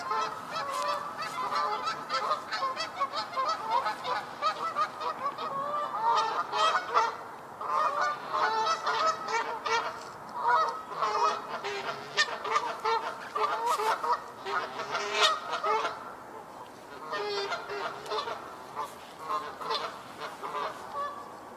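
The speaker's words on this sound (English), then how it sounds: "I hear a duck." Waterfowl call repeatedly across a wetland, a steady chorus of honking, quacking notes of moderate volume that rise and fall in uneven bursts throughout, with no talk.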